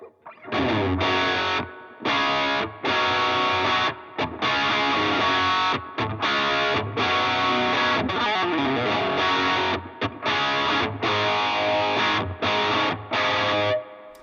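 Electric guitar with humbucker pickup played through an Engl Powerball distortion pedal with a touch of reverb, loud chugging chords in short bursts separated by brief pauses.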